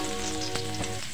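Onion sizzling in hot oil in a pan as a sliced chicken adobo with casaba is started, a short burst of frying under music.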